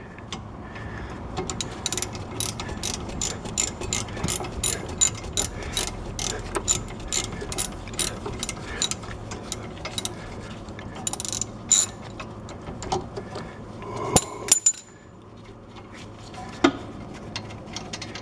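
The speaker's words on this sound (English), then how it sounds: "Ratchet back in here." A ratchet wrench clicks rapidly in bursts, close up, while working on a Chevy Trax rear brake. The clicks pause briefly and then resume, with a metallic clunk near the end.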